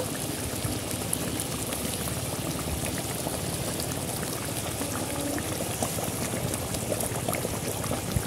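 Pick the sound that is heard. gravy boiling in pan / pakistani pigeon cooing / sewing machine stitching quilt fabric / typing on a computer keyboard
gravy boiling in pan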